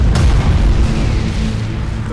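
A flagship blowing up in Battlefleet Gothic Armada 2, a loud, sudden boom followed by a deep rumbling roar that slowly fades.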